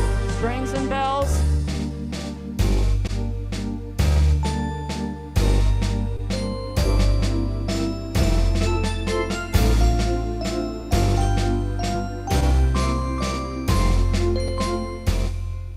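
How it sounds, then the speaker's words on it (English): Bright chiming bell tones from a keyboard's strings-and-bells preset ring over a steady bass and waltz rhythm pattern. The synthesized bell melody repeats in even bars at a moderate, lively volume. "Mm-hmm. Strings and bells."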